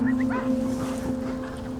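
Alaskan Husky sled dogs give a few short, high yips and whimpers over a steady mechanical hum, faint and somewhat distant.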